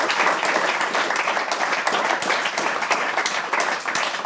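A German television studio audience applauds, a dense, steady wash of many hands clapping that holds at an even level throughout.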